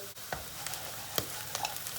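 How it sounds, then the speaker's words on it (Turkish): Chickpeas roast dry in a covered pan, giving a faint, continuous sizzle broken by soft scattered pops and crackles, with no voices. "Nohutlarımız kavruldu."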